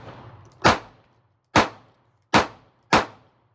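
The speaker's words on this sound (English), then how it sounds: "I'm going to keep shooting up top above the target." Four sharp pistol shots from a Springfield Armory Hellcat or Sig Sauer P365 handgun at an outdoor target range, spaced irregularly about a second apart, each a loud crack with a short decaying tail over a low background hum.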